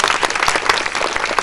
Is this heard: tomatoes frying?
no